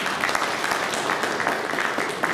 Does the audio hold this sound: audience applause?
yes